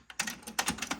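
Mechanical buttons on a Technics RS-TR313 dual cassette deck clicking as they are pressed, several sharp, close clacks in quick succession with no talk.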